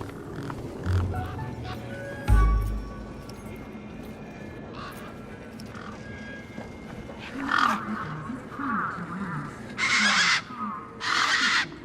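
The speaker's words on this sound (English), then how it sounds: "These were tough desert birds." Harsh cawing calls of tough desert birds in the video game Beyond a Steel Sky, a few rough bursts over a steady game ambience, the loudest cries coming near the end.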